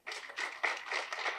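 A short round of applause from an audience at a blueberry farming presentation, steady mid-level clapping with a few louder pulses, heard alone without talk.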